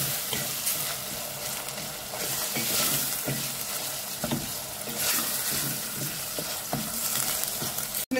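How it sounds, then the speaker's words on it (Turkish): Ground meat with red pepper paste frying in a pot, a loud, steady sizzle and crackle with intermittent stirring scrapes, close up and without any talking. "Şöyle güzelce özleyeceğim salçamı, iyice kıymama."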